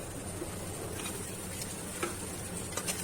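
Water lily stems fry with mustard in a pan, a quiet, steady sizzle with soft stirring scrapes and a few light ticks of a utensil against the pan, heard alone.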